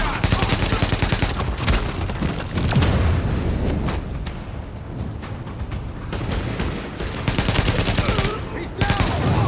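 Sustained automatic gunfire and heavy volleys in the shooter Tom Clancy's The Division, dense loud bursts with brief lulls over several seconds and occasional booms, battle noise throughout.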